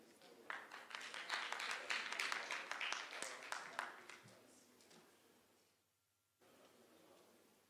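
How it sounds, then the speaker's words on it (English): Applause from an audience at the Africa Internet Summit, greeting the chair of the Nominations Committee, loud and steady for several seconds before fading out. "A round of applause for the Chair Nominations Committee."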